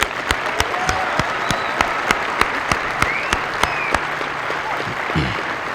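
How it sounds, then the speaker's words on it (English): Applause at a US Air Force Basic Military Training coin and retreat ceremony for Airmen and Guardians, honoring the military training instructors: a steady, sustained crowd clapping with a few sharp individual claps standing out, carrying through to the end. "let's give a round of applause to our MTIs."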